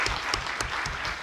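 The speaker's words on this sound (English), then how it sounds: "I think we should give her applause for that." Applause from a conference audience at a bioeconomy investment summit in Helsinki, a dense, steady patter of many hands clapping throughout a brief stretch.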